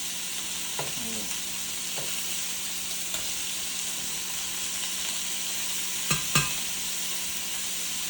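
Pork mechado cooking in a pan gives a steady sizzle and frying hiss, with a few clinks of stirring and a brief louder scrape near the end, all close and without speech.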